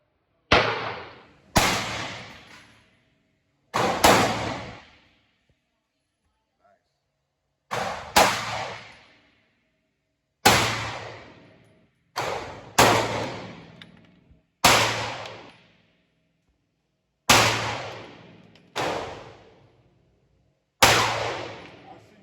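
Roughly a dozen sharp, loud gunshots from an FN Reflex Micro 9 pistol, fired one at a time with irregular pauses at a 15-yard range, each crack followed by a brief decaying echo.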